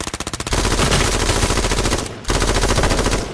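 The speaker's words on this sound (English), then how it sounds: "You can sit up, Maverick, by the way, and shoot over the back" Rapid automatic gunfire rings out during a drive-by in the video game H1Z1, a loud, close burst of evenly spaced shots that runs almost without a break, pausing only once for a moment.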